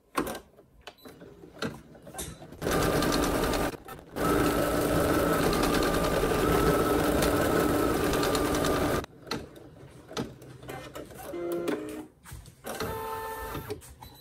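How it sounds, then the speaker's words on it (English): A home embroidery machine stitches an appliqué outline and a center line, giving a loud, steady mechanical whir with rapid needle clatter. It runs in two long bursts, with short pauses and quieter handling noises in between. "now what it's going to do is stitch the final center line right down the middle, and then it's going to stitch this outer edge"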